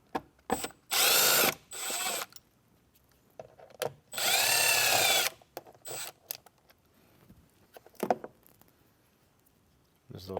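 A power drill with a T20 Torx bit removes factory speakers from a 2024 Jeep Wrangler or Gladiator in two loud whirring bursts, with clicks and handling noises in between.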